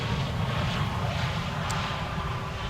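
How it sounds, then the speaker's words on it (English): EasyJet airliner at Schiphol after arriving from London Luton, giving a steady, fairly close engine rumble and hiss with no voices over it. "EasyJet having arrived from London Luton."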